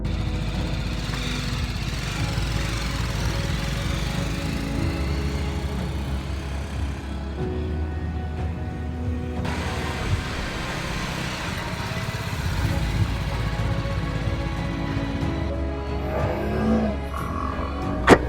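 A BMW G310R single-cylinder motorcycle engine drones steadily during a test ride, with low rumbling hum and shifts in pitch as the rider changes speed, mixed with wind noise and no talking.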